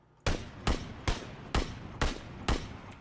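Gunfire in the video game PUBG: six loud, evenly spaced gunshots, each a sharp crack with a short decaying tail, heard alone without talk.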